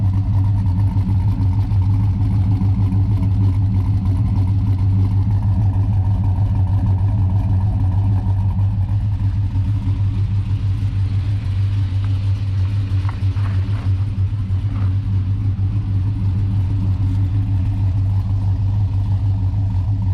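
Cammed LQ4 V8 in a Chevrolet Silverado idling with exhaust cutouts closed, a deep, steady, loud rumble with a choppy lope that holds throughout, fairly close and without talk.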